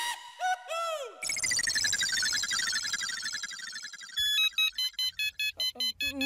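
An electronic phone ringtone for an incoming call plays loud and close: warbling rising tones, then a long sweeping melody, then a fast run of short repeated beeps.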